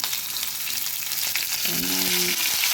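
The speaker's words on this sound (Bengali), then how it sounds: "এবার ওই তেলেই আলুগুলোকে ভেজে নেব। আলু আর পটল একসাথেই ভেজে নিচ্ছি" Potatoes and pointed gourd frying together in one pan of oil, a dense, loud, continuous sizzle with a brief clink of the spatula near the end; no speech.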